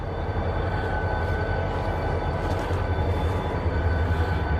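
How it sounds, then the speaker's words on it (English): A train passes near a row of abandoned apartments in Monahans, Texas, its loud steady rumble and faint high squeal holding continuously for several seconds without any talking. "There's the train. There it goes."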